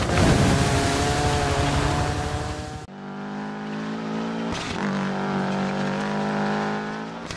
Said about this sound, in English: Forza Horizon 5 is a brilliant all-round racing game, but the rally tracks and vehicles shine through here